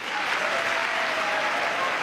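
A large chamber audience at a State of the Union address breaks into sustained applause, a thick, even wash of clapping heard from a distance, with some faint voices mixed in.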